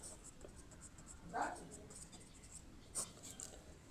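A pen scratches on paper during a Class 10 maths lesson, a quiet steady scribble under faint room noise, with two brief louder strokes partway through.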